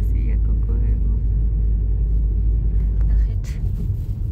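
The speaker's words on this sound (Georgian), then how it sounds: "კი, ისინი არიან მანქანები." Cars rumble past on a road in a steady low engine drone, with a brief brighter whoosh near the end, while people talk nearby.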